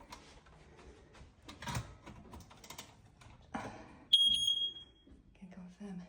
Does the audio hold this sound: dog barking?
no